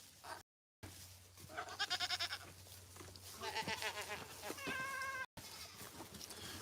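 Goats on a farm bleat in a series of loud, wavering calls, several overlapping cries close by over a low background hum, with brief dropouts in the sound.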